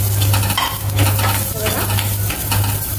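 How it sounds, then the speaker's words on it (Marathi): Coconut, ginger and garlic roasting in a pan, with loud close sizzling and constant brisk scraping and stirring throughout. "त्याचबरोबर आपल्याला आता खोबरं, आलं आणि लसूण पण आपण भाजून घेऊया।"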